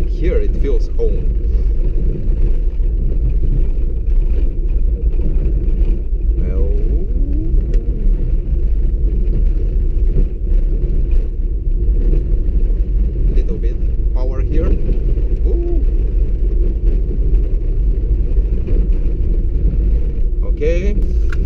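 A 1992 Citroen ZX 1.4i drives over rough, poorly surfaced asphalt, giving a steady, loud low engine and road rumble that runs without a break throughout, with bumps and rattles from the uneven road.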